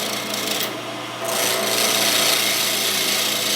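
A wooden pen blank spins on a lathe as a tool cuts long shavings from it, making a loud continuous rasping, whirring scrape that briefly eases then picks up again, close up with no voices.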